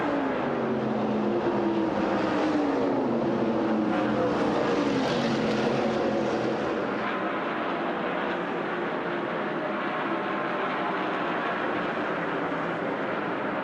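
NASCAR Winston Cup stock cars at the 1986 Southern 500 roar past in a loud, continuous engine drone. Pitches rise and fall as the cars pass, with the crowd noise mixed in.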